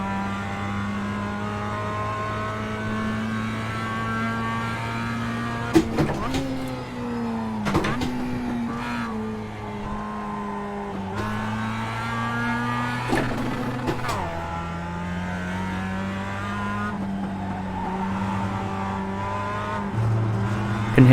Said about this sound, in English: Can hear the tyres putting up a fight still, so didn't warm them up enough just then